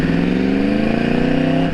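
A 2012 Yamaha R1 sport bike pulls hard nearby with a loud, steady engine roar whose pitch climbs, then holds briefly as it shifts into second gear.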